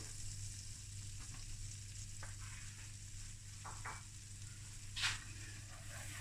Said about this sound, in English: And just let the flour cook through.